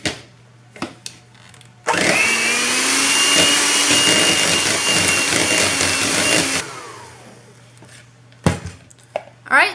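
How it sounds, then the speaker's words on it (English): A small handheld blender whirs steadily for several seconds, loud and close, mixing cheesecake filling, with clatters and knocks of handling before and after. "Now I'm going to use my little handheld blender and mix it up"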